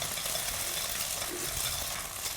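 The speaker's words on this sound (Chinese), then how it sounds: "一个鸡蛋先给它煎一下。" An egg fries in a hot wok with a loud, continuous sizzle and crackle that stays steady throughout, with no voices.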